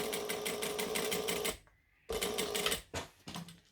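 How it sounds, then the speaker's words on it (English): A sewing machine runs stitching and back stitching on green fabric, a close rapid rhythmic chatter that stops briefly, then resumes in shorter runs. "we're going to stitch, back stitch,"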